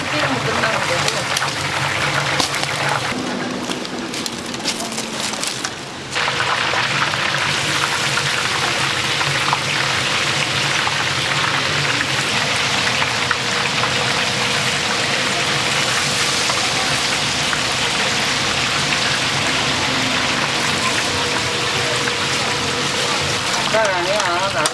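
Chicken frying in hot oil at a garlic fried chicken shop, a dense, steady crackling sizzle throughout with people talking over it.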